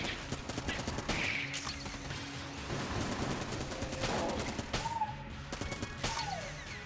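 Rapid gunfire from the Enter the Gungeon video game crackles in quick bursts of sharp shots, layered with game effects and chirps throughout.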